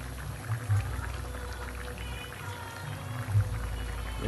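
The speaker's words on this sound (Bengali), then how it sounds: "কড়াইতেও তেল দিয়ে দেওয়া হচ্ছে" Cooking oil pouring into a kadai before frying luchi, a low, steady liquid stream with a couple of heavier glugs, close and moderately quiet with no talk.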